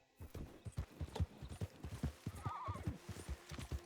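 Horse hooves clip-clop in a steady rhythm in Red Dead Redemption 2, close and clear, with a whinnying neigh rising midway through the gallop.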